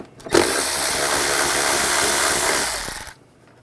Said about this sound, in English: We're going to remove this cover, use a 10mm socket.